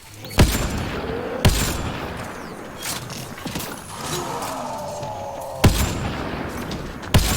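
Gunfire in the video game Mass Effect Andromeda: several sharp, loud shots spaced irregularly, with mechanical clanks and a humming tone between them and no talk.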